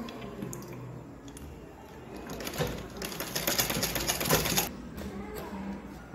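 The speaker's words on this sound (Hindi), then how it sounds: "और इसको सिलेंगे।" A sewing machine stitches the folded hem of a six-panel petticoat, a fast rattling whir that builds and holds for a few seconds, close and steady, with light handling sounds before and after.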